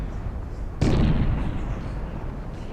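Heavy ship cannons boom in a Napoleon: Total War naval battle, one sharp blast breaking over a low battle rumble that keeps rolling afterward.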